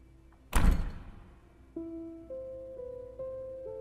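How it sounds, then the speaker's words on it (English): A door slams inside a castle corridor, one sharp heavy thud with a reverberant tail, followed by quieter sustained tonal notes that step in pitch. "there came the sound of a door slamming"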